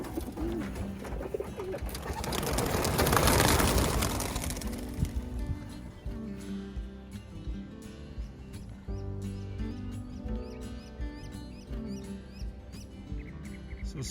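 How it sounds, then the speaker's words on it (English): Racing pigeons released from their loft in the early morning, with a rising whoosh of many wings near the start, then scattered soft cooing and light rustling, no talk. "We're gonna go ahead and turn the birds out."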